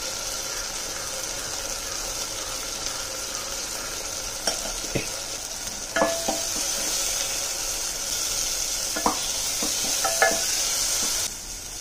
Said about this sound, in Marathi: ह्यात मी दोडकाची जे फोडी आपण केल्या होत्या ना, त्या टाकल्यात मी. मसाला आपला छान भाजलेला आहे, तो त्याच्यात दोडका चांगला आपण परतून घ्यायचा आहे